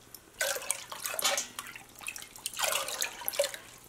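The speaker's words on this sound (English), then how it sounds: "I'm just gonna quickly rinse out these 2 cups" Running water rinsing out two measuring cups at a sink during a dye session, splashing and dripping in uneven bursts with brief pauses, close by.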